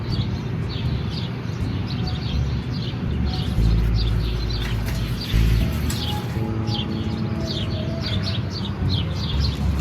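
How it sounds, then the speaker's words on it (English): Repeated high bird chirps outdoors over a steady low rumble of wind or traffic, the calls coming in scattered bursts throughout. "Birds sound nice out here though."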